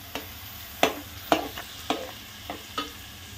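A spoon stirs mixed vegetables (peas, potato and cauliflower) in a pan for veg pulao, giving about six sharp scraping knocks at irregular intervals over a soft sizzle, close and clear, with no voices.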